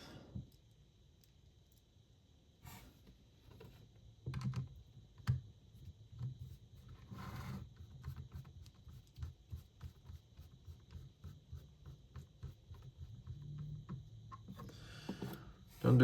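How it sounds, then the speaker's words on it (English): Screws are driven back into the rear of a plastic MCON controller casing, with small scattered clicks and ratcheting taps coming in quiet, irregular bursts close by, and a few louder knocks. "you want to screw in your back screws"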